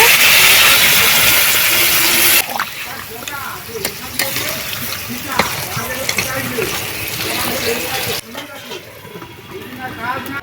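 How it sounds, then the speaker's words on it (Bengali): Water poured into a pan of frying chicken kasha bursts into a loud steamy hiss, then settles into crackling sizzle with stirring while a person talks over it. "এবারে জল দিয়ে দিচ্ছি খুব বেশি জল দেবো না"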